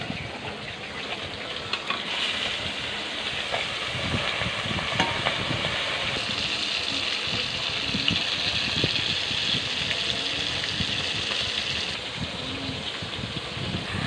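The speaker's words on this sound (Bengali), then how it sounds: "আমার মাছ ভাজছি" Pieces of fish, rubbed with salt and turmeric, fry in a kadai in a home kitchen, giving a steady loud sizzle and crackle of hot oil with no talking.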